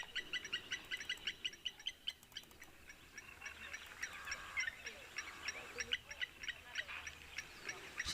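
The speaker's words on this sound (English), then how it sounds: "You can hear even the birds are not very happy, the lapwings." Repeated shrill lapwing calls overlapping in a steady chorus, moderately distant, over faint low rumble and rustling.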